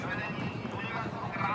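Racehorses gallop during the Velká pardubická steeplechase at Pardubice, hooves drumming steadily under a continuous crowd and commentary din, with a whinny rising out of the mix.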